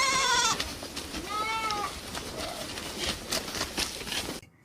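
Goats bleating in a cartoon, two or three wavering bleats from a small herd being led home, heard over a busy background of soft noise and rustling.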